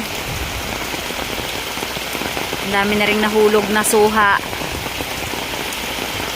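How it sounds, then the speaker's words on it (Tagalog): Steady, heavy monsoon rain hisses throughout, loud and close, while someone talks briefly in Filipino over it near the middle. "kasi malakas na ang ulan"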